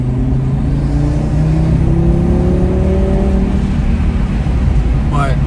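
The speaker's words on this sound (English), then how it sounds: "The induction noise is very nice." Car engine fitted with an Eventuri carbon intake revving, rising engine tones climbing through the run with steady loud drone, close and continuous, no talk over it.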